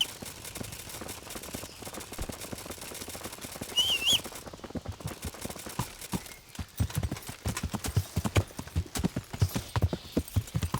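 Horse hooves clip-clopping in the medieval video game Kingdom Come: Deliverance, a steady fast rhythm of hoofbeats throughout with a brief whinny-like tone near the start, no talking.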